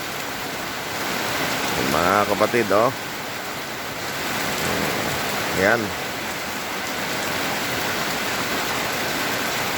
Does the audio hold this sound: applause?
no